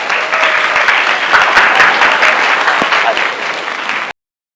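A studio audience gives loud, close applause to welcome a guest on a chat show, with dense clapping running steadily for about four seconds before cutting off abruptly.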